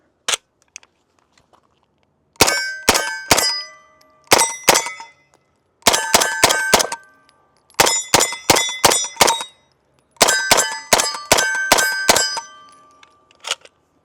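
A PTR 9CT pistol fires rapid strings of rounds at steel targets, each burst a sharp crackle of shots with bright metallic clangs and rings, separated by quiet pauses.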